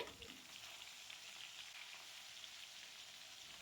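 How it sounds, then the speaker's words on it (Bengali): Fish sizzles steadily in a pan, a soft even crackle of frying oil with no voices. "মাছের এক পিট লাল লাল করে ভাজা হয়ে গেছে"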